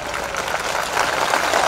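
A rally crowd in Mainpuri claps to welcome a guest, a brief burst of dense, moderately loud applause that swells slightly toward the end.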